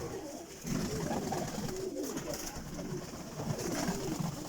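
Berezhnehuvate pigeons coo softly in a loft, steady low murmuring calls close by with no talk over them.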